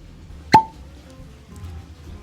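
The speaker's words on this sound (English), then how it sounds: "People over at Buffalo Trace know how to do a cork pop." A single sharp, hollow pop of a cork pulled from a bottle of E.H. Taylor Small Batch bourbon, loud and close, followed by quiet room noise.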